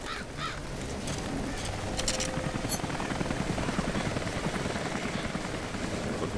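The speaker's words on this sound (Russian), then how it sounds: "Вертолетик туда полетел." A helicopter in the Rise of the Tomb Raider video game flies past with a steady, loud rotor drone throughout, while bird caws break through above it.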